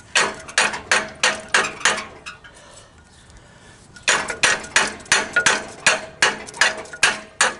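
Rapid metallic hammer strikes on a 2008 Nissan Versa suspension part ring out in a steady rhythm, pausing for about two seconds before resuming with the same hard, close blows.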